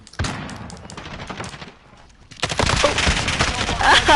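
Gunfire from a Call of Duty multiplayer match: a sharp burst near the start and a dense stretch of rapid shots, with a brief lull midway and loud, busy firing toward the end.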